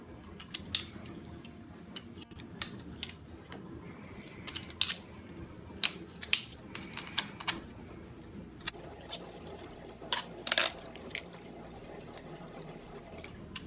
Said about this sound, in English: I'm gonna go ahead and prep my garlic while the pan's warming up.